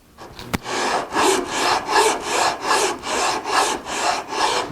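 Rhythmic back-and-forth rasping of 80-grit sandpaper on wood, about nine steady strokes, close and fairly loud, no talking.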